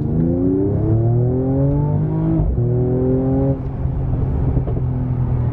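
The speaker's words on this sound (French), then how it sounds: "Ce retour d'échappement, c'est vraiment une très belle mélodie." A Mercedes CLS 53 AMG accelerating hard, its exhaust note rising steadily in pitch through one gear, dropping sharply at a shift, then climbing again, loud and close with no talking.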